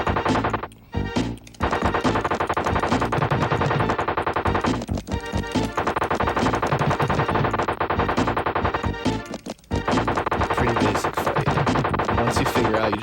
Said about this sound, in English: You just go down when you hear him shooting.